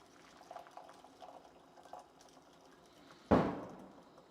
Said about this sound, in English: I'm just straining off that sauce